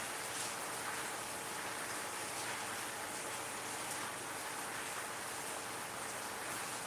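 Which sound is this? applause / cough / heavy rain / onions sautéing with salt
heavy rain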